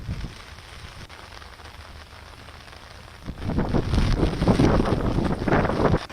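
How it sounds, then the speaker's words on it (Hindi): Strong wind blowing across the big lake in Bhopal during heavy rain, with high waves: steady low rumble, then loud gusty buffeting against the microphone, continuous with no voices. "तेज हवाओं के चलते भोपाल के बड़े तालाब में ऊंची ऊंची लहरें उठती हुई दिखाई दे रही हैं"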